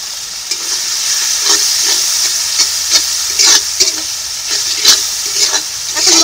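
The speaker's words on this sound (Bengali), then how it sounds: "এখন মশলাটাকে ভালো করে কষিয়ে নেব।" Ground spice paste with dried and green chillies, chopped tomato, turmeric and salt fries in a pan for river fish curry, making a loud hissing sizzle with repeated scraping stirs, close up and without talking.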